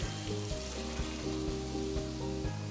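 Shrimp sizzles in a convection oven pan alongside steak, a steady close crackling fry with faint tonal hums from the appliance running underneath.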